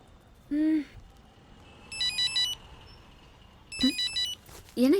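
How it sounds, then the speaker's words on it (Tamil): A telephone ringing indoors in a comedy scene: two bursts of a trilling electronic ring, close and clear, between short vocal sounds. "என்ன ஏன் ஃபோன் அடிக்குது?"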